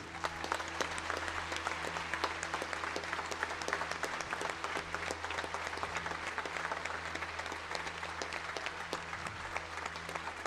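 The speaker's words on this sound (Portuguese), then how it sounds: "Vamos dar uma salva de palmas para Jesus." A congregation claps for Jesus at a Sunday church service, a steady, dense wash of hands lasting throughout at moderate distance with no voices over it.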